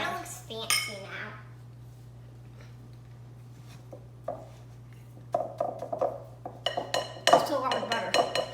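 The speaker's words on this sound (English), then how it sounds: "now we're going to mix this together until it's well combined" Butter, sugar and flour being mixed in a bowl, with scattered clinks and scrapes of a utensil against the bowl that grow busier and louder toward the end, plus a faint steady hum underneath and brief murmurs.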